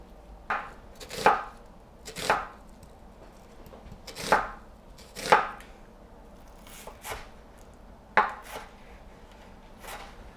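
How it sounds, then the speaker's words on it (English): A knife chops through half an onion on a board in about eight separate, fairly even strikes, each a crisp close thud with quiet pauses between. "I'm going to chop a half onion as well."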